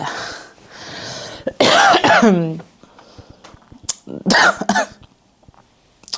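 Several harsh coughs and throat-clearing bursts from one person nearby, coming in two clusters separated by brief quiet moments.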